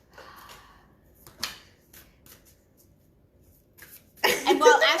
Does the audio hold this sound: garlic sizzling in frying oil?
no